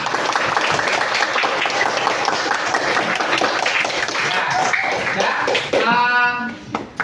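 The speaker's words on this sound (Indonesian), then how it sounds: "beri tepuk tangan untuk kalian semua" Pupils clapping in a primary school classroom during a lesson, a continuous loud patter of hands, with a voice rising over it near the end.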